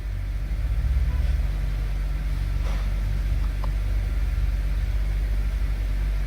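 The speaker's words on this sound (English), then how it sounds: "Now the car is running fine." A 2011 BMW 328i E90 idles steadily right after starting, following replacement and programming of its fuel pump control module: a constant low engine rumble and hum heard up close with no talking.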